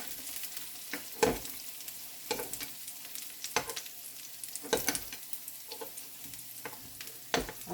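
Cabbage uppam frying in a pan while being flipped: a soft, steady sizzle with scattered scraping and tapping of a utensil against the pan, quiet and close, with no voices.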